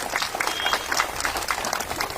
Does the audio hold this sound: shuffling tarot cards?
no